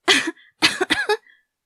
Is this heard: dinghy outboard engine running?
no